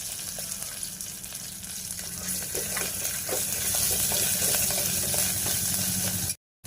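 Mustard seeds, curry leaves and ginger-garlic paste fry in hot oil, giving a steady, close sizzle with crackling pops and occasional stirring clatter that ends abruptly.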